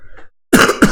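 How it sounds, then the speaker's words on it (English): A pair of harsh coughs, loud and close, the first a longer burst and the second a shorter one, following a brief patch of quiet. "because my cough is fucked up"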